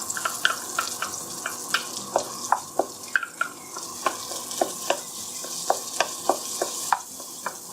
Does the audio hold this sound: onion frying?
yes